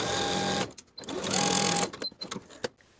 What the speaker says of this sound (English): Sew the dart in place from the top to the point